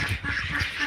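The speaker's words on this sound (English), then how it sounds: "Just feed these ducks quickly" Ducks quacking in a tight, excited cluster as they gather to be fed, several calls overlapping close by in a quick, steady run.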